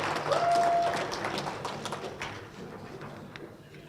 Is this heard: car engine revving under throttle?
no